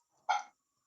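A dog gives one short, sharp bark at a squirrel, a single brief yelp that rings out clearly against near silence.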